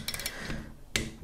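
A torque wrench tightening the cylinder head bolts on a Vittorazi Moster Plus paramotor engine, heard as a few sharp, close metallic clicks in a short burst with a quiet gap before the last two.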